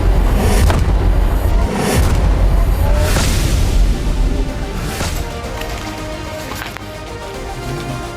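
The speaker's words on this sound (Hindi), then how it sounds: "जिसमें मरकबा टैंक को आईडी के जरिए उड़ाते दिखाया गया है" An IED blows up an Israeli Merkava tank: heavy, booming blasts and a rumbling roar fill the first half, then fade into lower, rolling rumble with a few scattered thuds.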